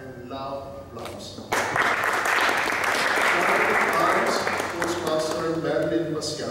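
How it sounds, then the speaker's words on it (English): Audience applause for outgoing officers of a Toastmasters club at a board installation, starting after a brief pause and swelling into sustained, loud clapping that fills the room while a voice carries on faintly underneath. "Let us receive them with a hard and loud applause."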